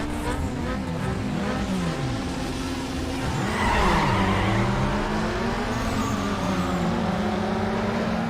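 Race cars in the video game Need for Speed Underground, with an RX-8 in the field, roaring and accelerating while tires squeal and skid continuously at close range; engine pitch sweeps up and down throughout, with faint talk underneath.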